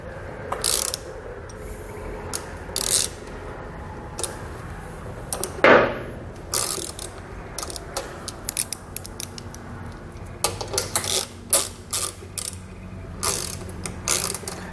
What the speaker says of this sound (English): Then we'll take a 13mm socket and we're going to start tightening up all of our hardware